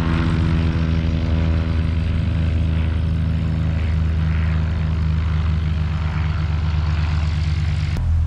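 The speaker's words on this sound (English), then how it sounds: "that's the size of planes you get flying over the site" A propeller plane drones steadily overhead, a loud continuous engine hum with throbbing low tones that holds throughout.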